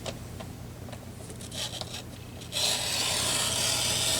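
A trimmer slices into material: a few scratchy rasping rubs give way to a loud, steady high-pitched cutting whir that fills the last stretch.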